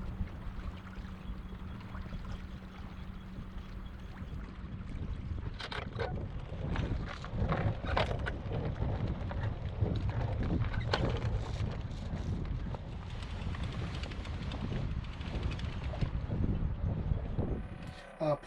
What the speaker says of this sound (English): we do pick up a little bit of breeze for just the last little bit into the anchorage here